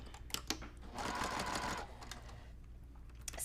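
A sewing machine stitches quilting fabric in a short burst, running steadily for about a second and then easing off, with light handling clicks around it and a low background hum.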